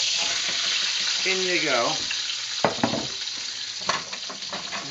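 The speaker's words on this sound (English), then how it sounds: "We got the oil frying. Hard stuff here." Hard vegetables hit hot peanut oil in a pan cranked to high for lo mein, sizzling loudly and continuously with clattering stirs near the end, while a person speaks briefly.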